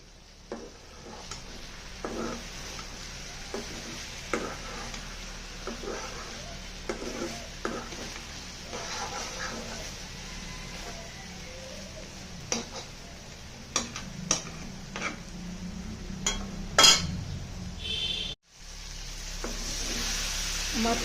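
Malabar spinach stir-fried in a pan, with a steady sizzle under repeated scraping and clicking stirs, close and moderately loud, no talking.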